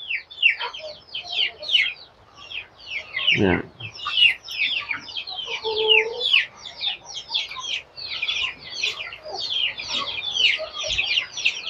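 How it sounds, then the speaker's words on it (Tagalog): Dense, continuous peeping and cheeping from a packed brooder full of young chicks, many small birds chattering at once close by, with a brief low thump and someone speaking briefly over the flock. "Mga manok natin guys"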